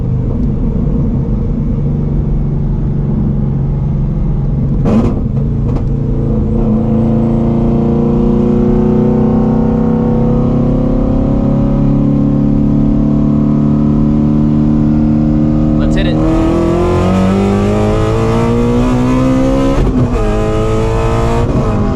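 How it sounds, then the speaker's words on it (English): Supercharged Shelby GT350 Mustang running E85 accelerating hard in third gear, a loud, continuous engine roar rising steadily in pitch, with a brief break around the shift and climbing again toward the end. "we're about to do a third gear hit up here"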